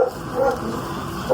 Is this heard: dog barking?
yes